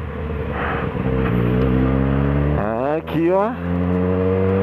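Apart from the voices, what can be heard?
Yamaha motorcycle passing by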